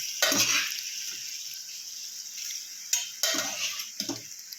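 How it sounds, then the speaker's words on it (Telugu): Pasta stirred into a fried masala mix in a pan, with a few distinct scraping clinks of a spoon against the pan over a soft sizzle, close and intermittent. "పాస్తాలు అనేది వేసుకొని కలుపుకుందాం"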